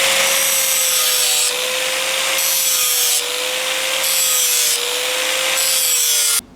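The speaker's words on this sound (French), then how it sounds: "je vais utiliser un autre disque que je vais mettre sur ma simple meuleuse" An angle grinder with a highly abrasive disc is grinding a steel knife blade. It gives a steady, loud, close whine that rises and falls slightly in rhythmic passes, then stops abruptly, with no talk.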